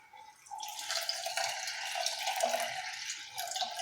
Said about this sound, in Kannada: ಈಗ ಇದಕ್ಕೆ ನೀರು ಒಂದು 2 ಲೋಟದಷ್ಟು ನೀರು ಹಾಕೋತೀನಿ.